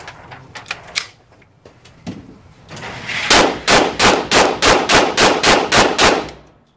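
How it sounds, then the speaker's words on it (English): A Grendel P30 .22 Magnum pistol fires Winchester Super X rounds, first a few scattered sharp shots, then a rapid string of about ten loud, evenly spaced cracks. "So here's 10 rounds of the Winchester Super X. These are over 1900 feet per second."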